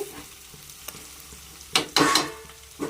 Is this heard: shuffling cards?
no